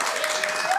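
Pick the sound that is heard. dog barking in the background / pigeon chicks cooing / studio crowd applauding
studio crowd applauding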